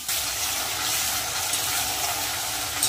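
Spice paste sizzles and fries in a pan for a potato and pointed gourd curry, a steady close hiss with faint stirring scrapes and no voices.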